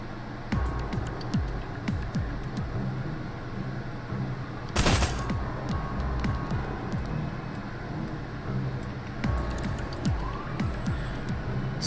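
A single loud gunshot cracks out in the tactical video game Door Kickers, a sharp broadband burst standing out near the middle of a busy background of game ambience and scattered clicks.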